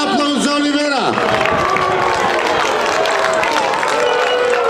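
An audience at a summer folk hit music event applauds and cheers for a singer, a dense wash of clapping and crowd noise following a brief voice at the start.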